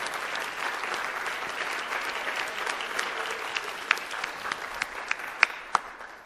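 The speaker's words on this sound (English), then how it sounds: "I'd like you to welcome both of our candidates with cheers," A debate audience welcomes two candidates with steady, dense applause that holds throughout and grows more scattered toward the end, with a few sharp individual claps standing out near the close.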